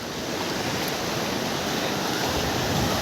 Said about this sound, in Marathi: जोरात एकदम समुद्र खवाळलेलो आहे